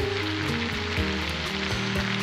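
Bacon, zucchini, potatoes and onion fry together in a pan at an outdoor fishing camp on the Daugava. The sizzle is loud, steady and close, with crackling pops and no talk.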